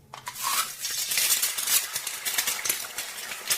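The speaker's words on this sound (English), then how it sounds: "My favorite sound is the sound of a busy kitchen, especially if someone's cooking a meal for me." A busy kitchen where a meal is being cooked, with steady clattering of pots, pans and cutlery and stirring, a dense continuous bustle of close metallic knocks and scrapes and no voices.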